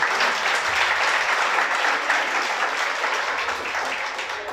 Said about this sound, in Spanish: Un aplauso a nuestro Salvador.